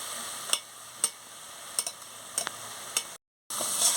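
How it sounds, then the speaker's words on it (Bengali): Boiled potatoes, stems and ivy gourd stirred in a pan, a ladle knocking against the metal in sharp, evenly spaced taps over a faint steady hiss, close by, then a brief silence before the sizzle returns. "ভালো করে একটু নাড়িয়ে নিচ্ছি দেখুন"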